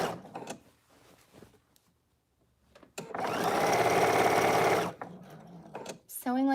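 A home sewing machine stitches a shift dress in one fast, steady whirring run of about two seconds, with someone talking before and after it.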